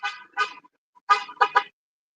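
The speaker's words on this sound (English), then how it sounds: "someone's honking" Car horn honks out on the street, two short blasts, a pause, then three more in quick succession, moderately loud and clear with no talk over them.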